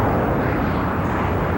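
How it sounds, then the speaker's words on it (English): An SR-71 Blackbird jet airplane in flight gives a steady, dense roar that holds at an even, loud level throughout, with no voices over it. "take a close look at the world's fastest airplane"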